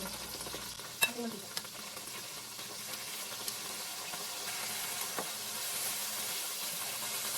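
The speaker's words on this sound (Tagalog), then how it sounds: "lulutuin ko na yung aking beef steak Tagalog. Lagyan ko na siya ng mantika." Beef for Filipino bistek Tagalog fries in hot oil in a pan, a steady close sizzle and hiss with a sharp clatter early on and occasional light scrapes of stirring.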